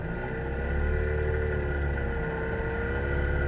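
Zwickau P70, a two-stroke car with a wooden frame and plastic body, pulling away with a steady low engine drone and rumble, close and continuous with no talk.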